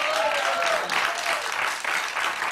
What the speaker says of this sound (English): you're applauding me for still being alive at 60